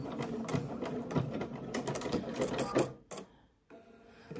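A home sewing machine stitching in the ditch along a seam of a pair of pants, a dense rapid mechanical chatter running steadily for about three seconds, then pausing and restarting briefly.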